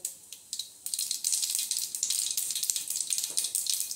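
Mustard seeds spluttering in hot oil in a kadhai give off rapid, crackly pops that start sparse and build into a busy, fairly soft sizzle.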